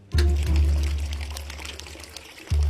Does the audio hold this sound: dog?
no